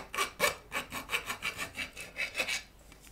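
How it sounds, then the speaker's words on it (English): Hand file rasping burrs off freshly drilled holes in a metal guitar amp chassis, about ten quick rhythmic strokes close up, then a brief pause; no talking. "let's do the filing job of those holes. I just want to get rid of all the burrs."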